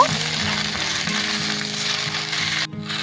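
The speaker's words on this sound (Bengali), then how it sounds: "পাঁচফোড়ন হালকা ভেজে নিয়ে পরিষ্কার করে ধুয়ে রাখা পুঁই শাক আর দেশি আলুগুলো দিয়ে দিচ্ছি এবার খুব ভালো করে নেড়ে নেব" Malabar spinach and native potatoes hitting hot oil with lightly fried five-spice seeds, a loud close sizzle with a few stirring scrapes, cutting off abruptly near the end.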